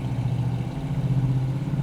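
A 1968 Dodge Charger with a 440ci big-block V8 in first gear gives a deep, steady engine rumble, heard loud and close from inside the car.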